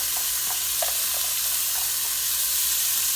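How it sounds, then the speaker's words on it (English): Chopped onion and jalapeño sautéing in hot olive oil for kimchi fried cabbage, a dense continuous sizzle with a few soft stirring taps, close and steady throughout. "So I'm going to go ahead and throw my onion and my jalapeno in. And I'm going to saute this for just a minute."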